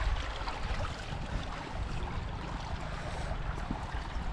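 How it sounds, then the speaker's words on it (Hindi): A lush green stream gurgling over stones, a continuous close wash of flowing water with a low rumbling texture, steady throughout and free of talk. "पानी के कलकल आवाज़"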